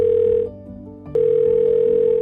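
A FaceTime call rings out unanswered: a steady electronic ringback tone sounds, pauses for about half a second, then resumes and holds, loud and close, with no voices.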